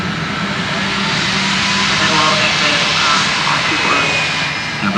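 A C-17 military transport jet lands at a large military airshow, its engines producing a loud, continuous roaring rush that swells slightly midway and stays steady throughout.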